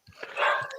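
Several dogs barking at home, a short close burst of sharp barks and yips over a moment, with no speech.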